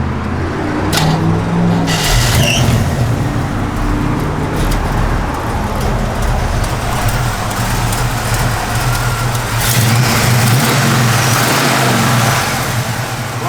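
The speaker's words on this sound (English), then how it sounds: "When Nathan fires it up, you're going to like the way it sounds." A 1965 Chevrolet Malibu engine runs loud and up close with a deep, throaty rumble, rising in a few revs and falling back, steady throughout.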